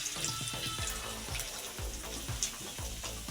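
Pakoras fry in a very hot wok, giving a steady hiss and crackle of bubbling oil with small pops throughout, fairly faint and without any voices.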